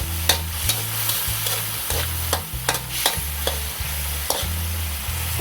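Sautéed onion and soy sauce stirred in a pan while cooking adobong kangkong: repeated scraping strokes of a utensil against the pan in a steady rhythm over a constant sizzle, close and clear with no talking.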